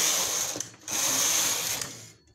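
A punch card knitting machine working a skirt, its carriage making two quick mechanical passes of rattling, ratcheting clatter with a brief pause between, close and moderately loud, no voices.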